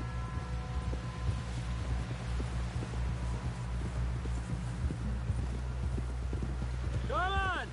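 Horse hooves clip-clop at a steady trotting rhythm in a video game, carrying on under talking voices and a low droning hum, with a brief whinny-like call near the end.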